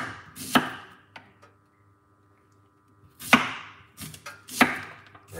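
A knife chops a red onion, with a few sharp, separate cuts on a board spaced by pauses, close and clear.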